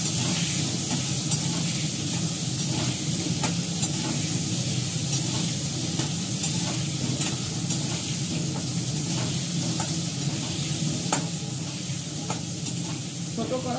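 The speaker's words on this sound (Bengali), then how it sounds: "আলুটা একটু ভেজে নিয়ে আলুটা ছাড়বো" Potatoes fry in a hot wok, giving a loud, continuous sizzle and hiss that never lets up, with faint stirring clicks scattered through it.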